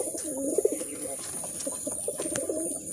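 Pigeons in a loft coo in soft repeated throaty bursts over a steady background hum, close and moderately loud, with no talk.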